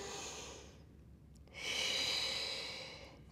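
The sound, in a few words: deep breath in through nose, out through mouth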